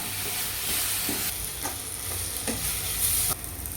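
Chili powder, coriander powder and garam masala stirred in a hot pan for a Tamil squid gravy, with a steady sizzle under repeated soft scraping strokes of a spoon.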